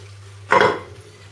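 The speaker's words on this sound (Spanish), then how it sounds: "Y ahora ya vamos a poner toda la verdura en la sartén" A single soft clatter as sliced vegetables and onion drop into a frying pan, a brief muffled rustle and thump over a low background hum.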